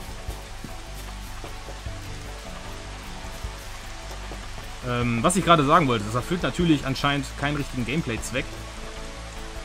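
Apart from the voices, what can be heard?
rain splashing into water in video game Final Fantasy XV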